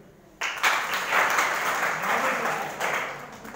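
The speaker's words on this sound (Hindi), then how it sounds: "तुम लोग नॉर्मल इंसान हो, ताली बजाओ" A crowd of schoolchildren at a school event bursts into applause after a short quiet lead-in, a dense, steady clatter of many hands that swells and then holds at a moderate level.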